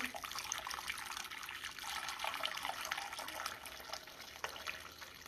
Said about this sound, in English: we're just gonna pour this broth in